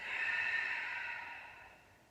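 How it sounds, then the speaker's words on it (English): A single long, soft exhale during a yoga flow, close and breathy, fading gradually over about two seconds with no talking. "Breathe in. Breathe out."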